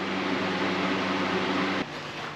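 Steady broadband whoosh of an electric fan running in a home garage during a Fiat 124 Spider bodywork job, loud and close with a low hum that drops slightly in pitch partway through; no talking.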